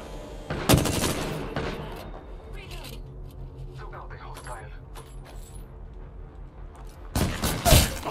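Gunfire bursts from an Apex Legends match: a loud volley near the start and another at the end, with quieter shots and game noise between while players talk over it.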